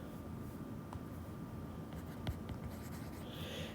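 A pen writing out a chemistry problem makes a faint, steady scratching with a few light taps, quiet and close against a soft background hiss.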